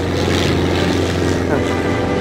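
Steady, loud drone of a helicopter's engine and rotor right nearby at a Loscon 30 event, a continuous low hum and broadband roar with people talking over it.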